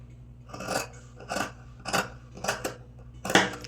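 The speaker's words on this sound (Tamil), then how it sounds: "கேன்வாஸை கட் பண்ணிக்கிறேன்." Scissors cut canvas fabric in five crisp, evenly spaced snips, each a short rasping crunch close by, with no talking.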